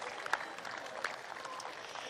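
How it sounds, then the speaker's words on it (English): A crowd at a women's reserve grade football grand final applauds Maitland, a faint, distant wash of clapping that holds steady throughout. "I'd like to make another big round of applause for Maitland."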